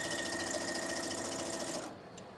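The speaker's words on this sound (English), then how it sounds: "What machine are you sewing on today?" A sewing machine stitches fabric for an organza and fringe handbag, a close, steady whirring hum with rapid mechanical ticking that runs continuously, then cuts off near the end.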